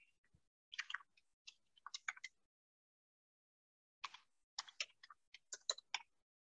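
A password is typed on a computer keyboard, two bursts of quick, light key clicks separated by a pause of silence, close and clear, with no one speaking.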